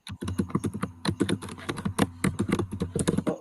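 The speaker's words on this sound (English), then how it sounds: "Who is typing like that?" Fast typing on a computer keyboard, a rapid, uneven run of loud, close clicking keystrokes heard alone.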